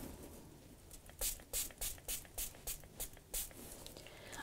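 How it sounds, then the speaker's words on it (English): Stain sprayed inside a cardboard booth as a run of about nine short, hissing aerosol bursts in a steady rhythm, close and fairly loud, with quieter background before and after. "So we'll spray it."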